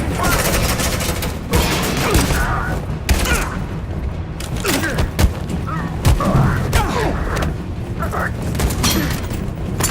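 Suppressing gunfire crackles in dense bursts through a firefight in the video game Detroit: Become Human, with booming shots and thuds under shouted voices throughout.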